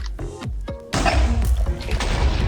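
An explosion in a video game, a sudden loud crashing blast after a short lead-in of thumps, followed by a rumbling debris tail.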